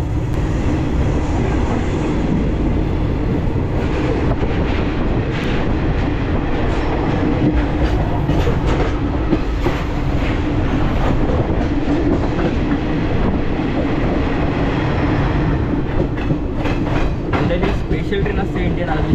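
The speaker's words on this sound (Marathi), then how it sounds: "आणि इंडियन आर्मीची स्पेशल ट्रेन आहे ही." A special Indian Army train rumbles past close by, with loud continuous rolling and rhythmic clickety-clack of wagon wheels on the rails, steady and unbroken throughout.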